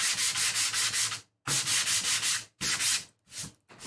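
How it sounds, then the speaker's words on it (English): A power sanding disc grinds against a wooden picture frame in repeated strokes, loud and close, with short pauses between passes. "I'm just going to lightly sand that whole area"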